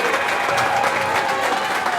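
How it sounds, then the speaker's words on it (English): Glenbrook North fans applaud at an ice rink after the first period of a high school hockey semifinal, a full, steady burst of crowd clapping that fills the arena. "an applause from the Glenbrook North fans here at the rink"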